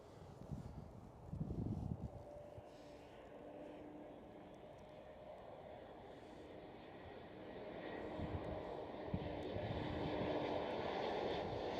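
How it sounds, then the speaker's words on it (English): KLM Cityhopper Embraer E190 jet at Schiphol Amsterdam airport, heard as a steady broad engine roar with a brief low thump early on, swelling louder toward the end. "KLM Cityhopper E190."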